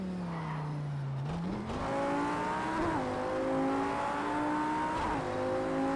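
Audi R8 V10 Plus racing lap in Project Cars 2, a steady loud engine drone rising through gear changes with shifting revs, continuous and alone.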